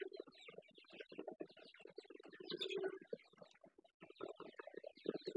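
Pigeons in a loft with trays and squabs keep up dense, overlapping cooing and calling close by, a busy continuous chorus with no talk.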